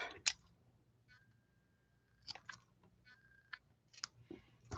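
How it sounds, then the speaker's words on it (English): Scissors snip through ribbon for a bow on a stamped paper craft card, giving a few faint, sharp clicks spaced apart in a quiet room. "So let me snip this off."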